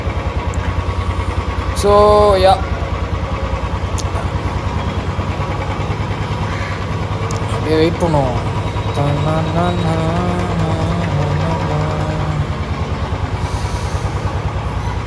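A Royal Enfield Classic 350 motorcycle engine idles steadily and loudly up close, throbbing in an even thump throughout. Someone speaks briefly over it.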